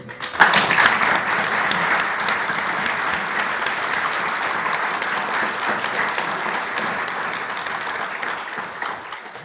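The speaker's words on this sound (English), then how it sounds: "let's pause and give him a round of applause to tell him thank you." A conference panel audience gives a sustained round of applause, dense steady clapping from many hands, loud and continuous, with no voices standing out.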